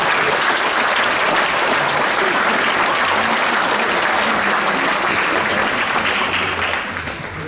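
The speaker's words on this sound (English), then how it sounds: "Let's give an applause for that." An audience at a Veterans Day program applauds kindergarten children, a loud, dense wash of clapping that holds steady for several seconds and then begins to fade.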